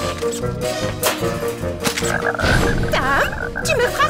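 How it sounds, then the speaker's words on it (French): A frog croaks loudly and repeatedly in a cartoon scene, with warbling, rising and falling calls layered over music and thumping effects. "Touche pas, ma grenouille!"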